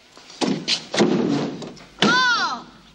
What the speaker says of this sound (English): Can't get the door open.